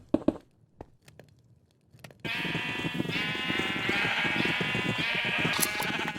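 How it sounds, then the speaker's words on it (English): A Minecraft sheep bleats loudly and continuously, a close, wavering cry that starts suddenly after a few soft clicks and thuds and carries on to the end. "The never-ending shearing of sheep continued."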